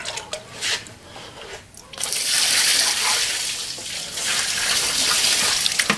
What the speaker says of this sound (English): And I just got a bucket with some hot water. I'm going to pour it.